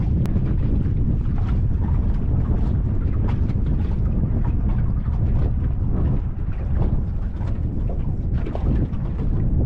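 Strong wind buffets a fishing boat out on the water, a loud, continuous roaring rumble of gusts across the microphone with no let-up.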